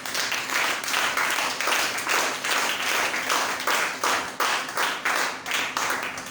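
A church congregation claps together in a steady, rhythmic beat, with many hands striking in repeated pulses throughout and no talking.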